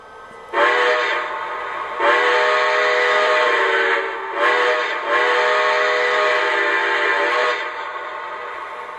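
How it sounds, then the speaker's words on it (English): A loud, sustained steam whistle with a rich chord from a Lionel model Milwaukee Road S3 4-8-4 Northern locomotive, sounding in three long blasts separated by brief gaps, close and clear. "So here's the first whistle."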